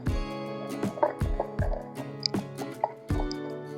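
Bajji batter for chilli and potato fritters is stirred smooth by hand in a bowl, with thick, wet plops and squelches coming in an uneven rhythm close up.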